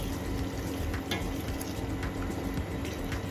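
Chicken wings simmer in a pan while being stirred, giving a steady, close bubbling and sizzling wash with faint scrapes and clinks running through the whole stretch, no voices.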